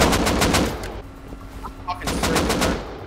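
AK rifle gunfire in the video game Rust, rapid automatic bursts close and loud that pause briefly and then resume as a fast rattling volley.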